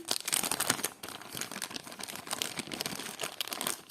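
Continuous crinkling of a plastic bag, close by, with irregular rustling bursts throughout and no talking.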